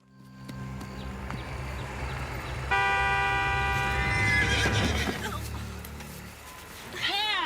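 A spooked horse neighs with a loud, rising whinny near the end, over a busy scene with music and background noise; a horn-like tone sounds midway.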